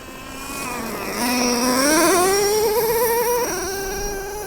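A Traxxas Revo 3.3 nitro RC monster truck engine, on its first run in ten years, buzzes with a high, nasal whine that climbs in pitch as it revs, then holds and dips slightly, close and loud.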